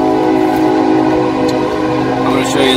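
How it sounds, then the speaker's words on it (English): A passing train with a sustained whistle, loud and close, layered tonal blasts over a continuous rumble of rail cars, with a brief higher whistle toward the end. "there's always got to be a train right in the middle of my video"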